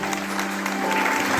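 An audience claps together for about a second and a half, a steady dense burst of applause at an Indian business gathering, loud and continuous without a break.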